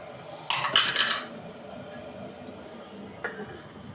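A metal lid being placed on an idli steaming pot while making idiyappam in a kitchen. A short cluster of clanks and clinks sounds close by, then a single faint tap follows a few seconds later.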